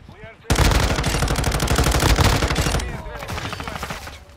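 A sustained burst of rapid automatic fire from an M13C rifle in Call of Duty Warzone 2 breaks in loud and close after a short quiet start, then continues slightly fainter with overlapping shots from other weapons.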